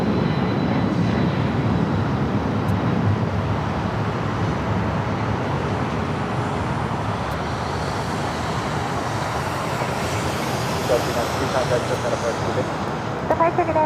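A Delta Boeing 757 bound for Reagan National takes off at LAX, a steady, loud broadband engine roar that holds evenly throughout, mixed with background traffic-like rumble; a voice talks over it.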